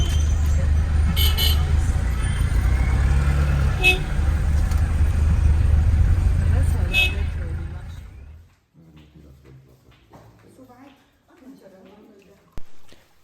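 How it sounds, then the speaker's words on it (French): Busy traffic at the Morocco–Mauritania border crossing fills the air with engine rumble and several short car horn toots in the first eight seconds, then drops to quieter sounds with brief voices and a sharp knock near the end. "ça marche au klaxon ici."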